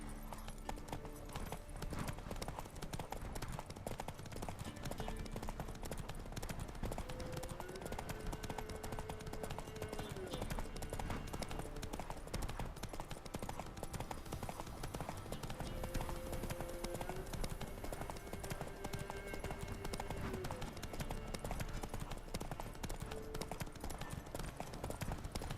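Horse hooves gallop in The Witcher 3 video game, a steady, continuous clip-clop that runs the whole time under sustained game music.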